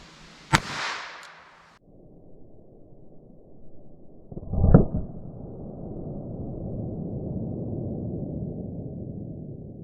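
A Beretta Bobcat pocket pistol fired through MDF into ballistic gel, one sharp, loud report early on followed by a brief ringing decay, then handling noise and a steady background hiss.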